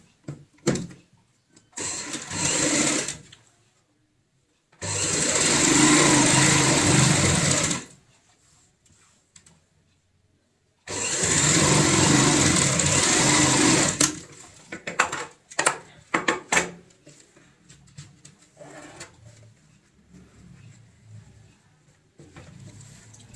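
Sewing machine stitching a handmade ladies' purse with a zip, running in three separate loud bursts of steady whirring, the last shorter, with quieter handling clicks and rustles in between.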